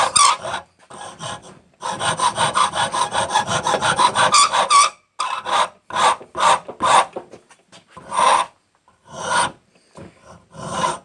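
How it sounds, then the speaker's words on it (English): A rasp files a piece of scrap wood being shaped into a wooden knife, with bursts of rapid, gritty strokes close by, a long continuous run followed by shorter separated passes and pauses. "Switch over to the rasp."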